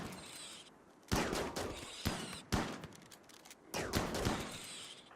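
Gunfire from colonists in the video game Rimworld, a series of sharp shots in bursts and single cracks over about five seconds, close and fairly loud, with no speech.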